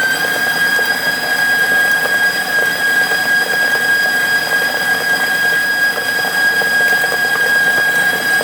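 Loud, steady high-pitched whine of an electric mixer running at full speed whipping Swiss meringue buttercream, an unbroken motor drone with no talking.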